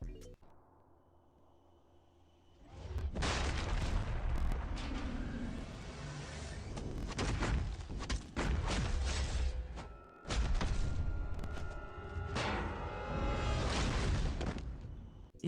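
Red Guardian's Special 3 attack in Marvel Contest of Champions unleashes a loud run of heavy thuds, booms and crashing impacts after a quiet start, with brief gaps between bursts.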